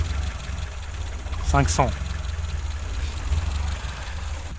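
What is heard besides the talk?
engine idling while adjusting Weber carburetor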